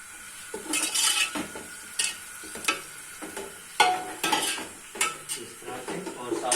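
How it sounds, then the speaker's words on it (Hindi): Whole garam masala spices roasting in a pan for a Pakistani chana pulao, with a steady sizzle broken by repeated scraping and clinking of a utensil stirring them, close and fairly loud, without speech. "देखें ये साबुत गरम मसाले डाल के थोड़ा सा भून लेंगे"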